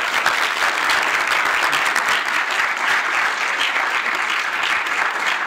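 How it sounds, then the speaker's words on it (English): An audience at a live evening event breaks into sustained applause, a thick, even wall of clapping that holds at a steady loudness throughout without any talking. "a round of applause to everyone who is here tonight"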